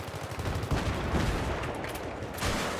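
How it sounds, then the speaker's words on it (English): Dense gunfire and grenade blasts in a 32 vs 32 Battlefield match on the Grand Bazaar map crackle continuously, with loud overlapping bursts and booms filling the whole stretch. "And, so many nades, so much rubble."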